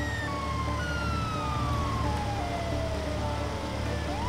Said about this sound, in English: I don't want to hear this broken siren